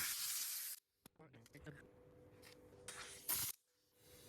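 Compressed air blasts over a Porsche seat in short bursts, a loud hissing rush at the start, then quieter puffs and a second strong burst, with soft handling noises between.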